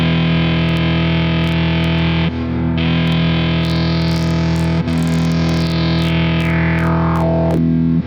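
A droning external audio source run through the SmplTrek's per-channel filter effect, with a distorted, buzzy tone whose brightness sweeps and shifts as the filter is moved, loud and continuous throughout.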